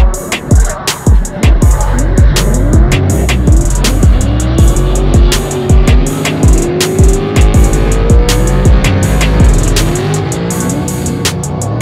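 Loud V8 drift cars at the Nurburgring Drift Cup, light 400-500 bhp machines, rev hard through repeated sharp throttle blips and sweeping pitch rises, with engine roars following one another in a fast, aggressive rhythm close by.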